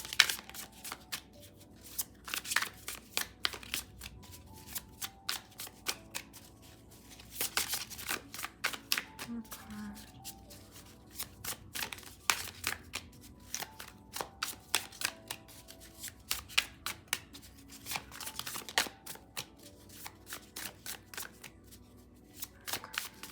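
Tarot cards shuffled by hand in a quiet room, a long run of crisp riffling bursts and soft flutters repeating in uneven waves, close and clear with no talking.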